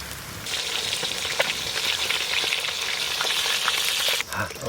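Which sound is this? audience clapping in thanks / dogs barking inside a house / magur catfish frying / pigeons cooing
magur catfish frying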